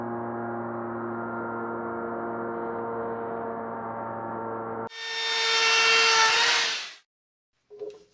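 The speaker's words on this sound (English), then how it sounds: "I have a lot of rabbets to cut with my router." A router cuts rabbets into wood for a display case, first with a steady tonal whine, then a brief louder, harsher cutting burst that stops abruptly, followed by silence and a short tap.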